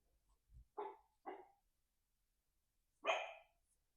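A puppy gives three short, sharp barks: two quick yips close together, then a louder one after a pause, in an otherwise quiet room.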